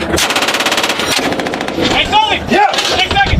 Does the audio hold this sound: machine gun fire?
yes